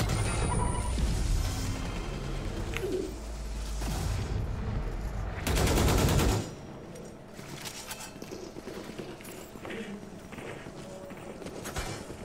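Rifle gunfire in a Valorant collegiate esports match: bursts of rapid shots and clattering game effects, loudest around the middle, under a commentator's voice.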